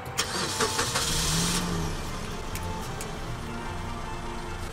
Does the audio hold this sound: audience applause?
no